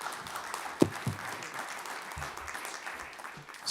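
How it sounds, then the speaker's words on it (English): A crowd claps steadily in a room, a soft continuous patter of applause with a few sharper claps near the start. "Myrna Johnson, give her a round of applause."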